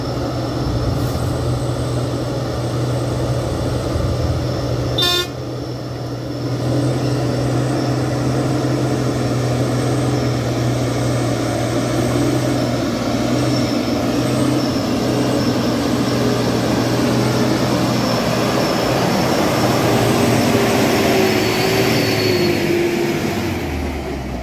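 A loaded Fuso coal truck in Jember grinds uphill in first gear, its steady low engine drone and drivetrain rumble loud and continuous, with a brief sharp rattle partway through and rising strain toward the end.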